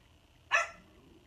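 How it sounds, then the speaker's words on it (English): A single short dog bark, loud and close, bursts out once during a makeup livestream, standing alone over a quiet room. "Y'all guys get more barking from him. Crazy dog."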